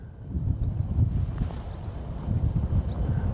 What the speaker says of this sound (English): I can hear the engine accelerating